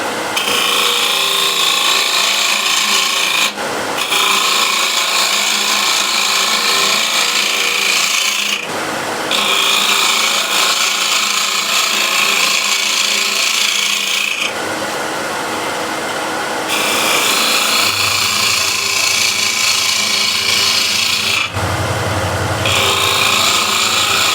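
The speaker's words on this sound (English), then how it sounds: "So spindle gouge." Spindle gouge cutting a spinning wooden blank on a lathe, shaping a triangular form, with a steady loud scraping rasp broken by short pauses at a few points, and a low hum entering near the end.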